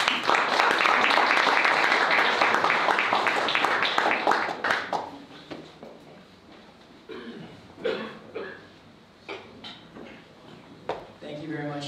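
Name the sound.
audience applause at crypto meetup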